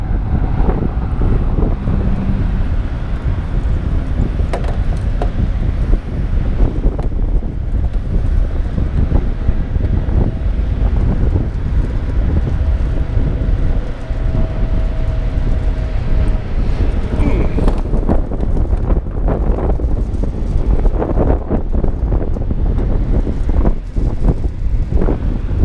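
Strong wind blows across an open corn field during harvest, a loud steady rumble of gusts buffeting the microphone throughout with occasional faint machinery sounds underneath.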